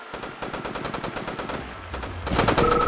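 Rapid bursts of automatic rifle fire from GI infantry shooting rubber bullets in the video game Red Alert 2, close and loud, with rhythmic repeated shots and a heavier burst near the end.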